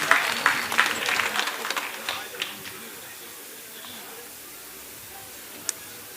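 A crowd claps for a regional councillor at the opening of a police sports championship, a burst that quickly thins to scattered claps and fades into quiet room noise.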